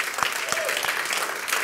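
Applause from a live conference audience gathered during a pandemic, a short burst of clapping with a few sharper claps standing out near the front, and a voice briefly audible underneath.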